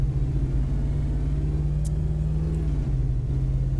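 A Ford F150 SVT Raptor pickup engine in American Truck Simulator, a steady low rumbling drone held at constant revs, loud and close, with a slight drop in pitch near the end.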